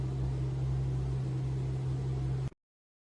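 Glass electric tea kettle heating water, a steady loud hum and hiss with a strong low drone, continuous alone for about two and a half seconds before cutting off abruptly into silence.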